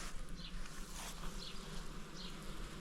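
Honeybees hum around a beehive in a steady, dense drone, with individual bees passing near now and then, faint overall.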